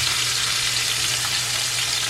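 Garlic, sweet peppers, onions and carrots sizzle in leftover oil from fried fish, giving a steady, dense hiss that holds at a constant level throughout.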